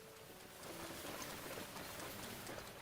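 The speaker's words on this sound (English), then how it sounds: "Oh wait, it's raining." Rain falls in the open world of The Legend of Zelda: Breath of the Wild, a faint, even hiss of drops that thickens slightly after the first half second and holds steady to the end.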